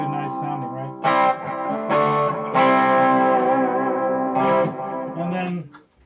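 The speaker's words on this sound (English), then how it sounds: "So that's the Dispatch Master, which is a combo reverb and delay." An electric guitar rings through a Dispatch Master combo reverb and delay pedal, with several sustained chords and notes trailing into warm echoes. The playing is close and clear, then fades out at the end.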